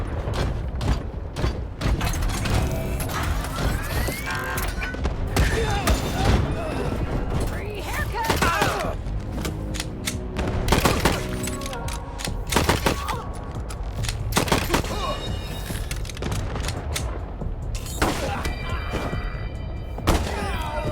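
Gunfire in the video game Wasteland 3, a turn-based combat sequence: loud repeated shots and booming impacts layered with game music and effects, dense throughout with short pauses.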